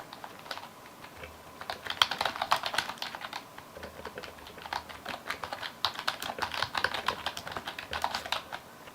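Typing on a Perixx Periboard 315 keyboard: a steady, dense patter of soft key presses with brief pauses, fairly close and moderately quiet, with no voices.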